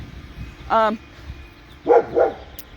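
A dog barks at a garbage truck once, pauses, then gives two quick barks close by, with light background noise between.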